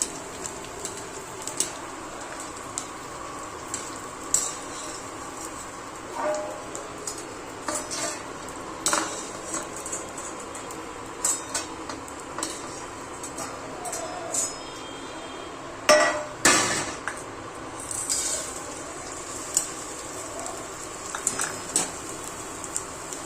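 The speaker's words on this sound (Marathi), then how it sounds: "डिंक चांगला फुलेपर्यंत भाजून घ्यायचं आहे।" Edible gum (dink) roasts in a pan for methi laddoos. A utensil stirs and scrapes with quiet, scattered clinks and taps over a soft background hiss.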